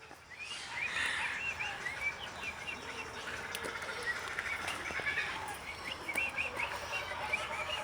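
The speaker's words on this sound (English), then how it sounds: "Ooh, that sounds like a cockatiel." A pet parrot chirps and whistles, sounding like a cockatiel, in a stream of bright, moderately loud calls over a constant background hiss.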